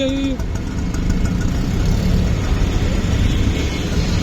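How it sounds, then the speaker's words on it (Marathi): Idling vehicle engines in a jammed Mumbai street traffic, Kurla market area, give a loud, steady low rumble throughout, with a brief horn-like tone at the start and voices talking over it. "हे बघा ट्रॅफिक बघा"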